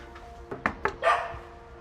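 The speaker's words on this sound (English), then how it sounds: "I can hear Chili the dog." A dog gives a few quick barks, then a longer yelping bark, moderately close, over a faint steady background hum.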